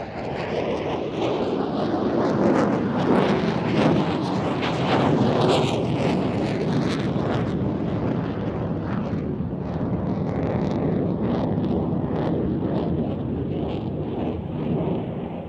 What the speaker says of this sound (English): the F-16 enters another 360, really pulling hard to complete this turn